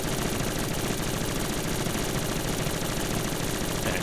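Dense, rapid automatic gunfire rattles without pause from the Call of Duty Black Ops 3 zombies mode, a loud, unbroken stream of shots with no audible talk.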